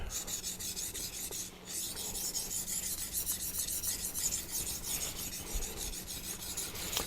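A convex knife rasps back and forth across a Naniwa diamond whetstone in continuous close strokes, a steady gritty scraping with no voices.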